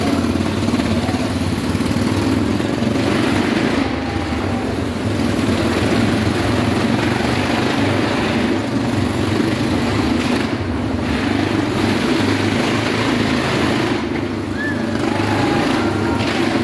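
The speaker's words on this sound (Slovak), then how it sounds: "ten zvuk, aký tie motorky majú a ako sa aj celá tá stena hýbe" BMW motorcycles roaring around a wooden wall-of-death track at a motorcycle festival, a dense continuous engine drone with no breaks, loud and close throughout.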